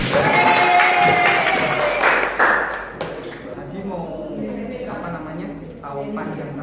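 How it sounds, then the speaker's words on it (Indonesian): Students in a classroom clap after a group presentation on building a telescope. The scattered clapping mixes with chatter and voices, louder at first and then thinning into a murmur of talk. "Tepuk tangan buat kalian semua."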